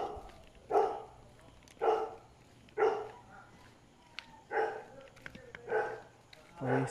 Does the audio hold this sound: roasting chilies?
no